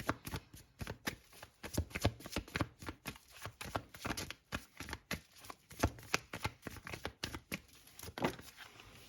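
Tarot cards shuffled by hand, a rapid run of soft riffling slaps in uneven bursts, close and quiet with no talk.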